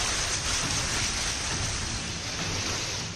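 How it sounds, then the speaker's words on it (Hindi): Heavy monsoon rain pours down in Mumbai as a dense, continuous roar of loud, steady downpour without a break. "आसमान से बरसती बौछार मुंबई में हाहाकार मचा रही है।"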